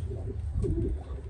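Racing pigeon, a club champion, gives a soft low cooing close by in a loft, brief and rolling over a rumbling background.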